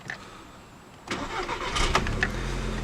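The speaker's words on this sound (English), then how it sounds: "the 2-liter turbo starts right up" A 2008 Volkswagen GTI with a 2-liter turbo engine cranks briefly after a quiet moment, catches and settles into a steady idle, close by and moderately loud, with no talking.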